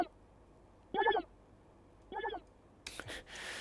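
Pitch-shifted synth run through a vocal transformer, EQ and delay, three short hooting tonal bursts separated by quiet gaps, the later ones softer like echoes, followed by a brief noisy swell.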